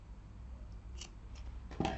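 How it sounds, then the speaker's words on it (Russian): Scissors cut a slit through fabric for a welt pocket, a few faint, close snips building to a sharper cut near the end, quiet and without talk. "Очень осторожно, отодвигая вот эти вот ткани, мне нужно сделать разрез вот здесь посерединке."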